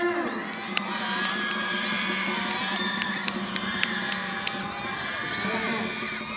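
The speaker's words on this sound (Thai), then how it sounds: "ขอเสียงปรบมือดังๆให้กับคณะสีแสดรังสีมันอีกครั้งค่ะ" At a school cheer contest, a large crowd of children cheers and shouts continuously, with scattered sharp claps and whoops popping out over the steady, loud roar.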